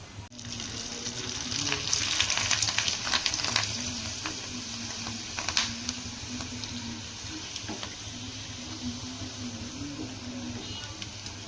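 Sun-dried sandige crisps frying in hot oil, a steady close sizzle and bubbling that swells early and holds throughout, with occasional scraping stirs and no talking.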